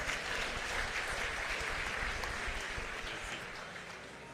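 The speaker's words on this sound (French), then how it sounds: "On nous recevra le prédicateur avec un chaud d'applaudissements." A congregation at a church convention applauds the preacher, a faint, distant wash of clapping that fades slightly toward the end.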